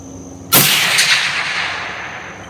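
A single suppressed rifle shot at an outdoor shooting range, a sharp loud crack followed by a long fading ring-out, with no talk over it.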